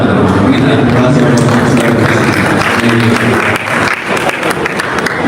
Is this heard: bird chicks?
no